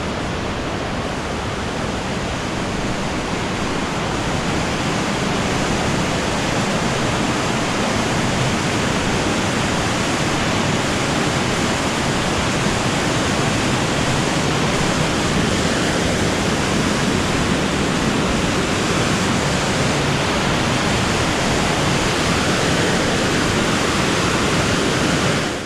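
A river rushes loudly and steadily near a footbridge on a jungle trail in Tolima, Colombia, a dense unbroken roar of water close by with no voices over it.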